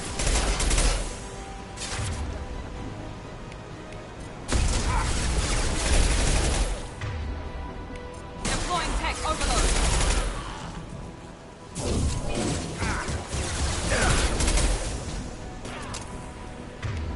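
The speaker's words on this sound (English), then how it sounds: "Firing an impact shot!" Repeated bursts of heavy impact-shot gunfire from the Mass Effect 2 game, several loud blasts in clusters with sustained crackling and rumble between them, no voices over it.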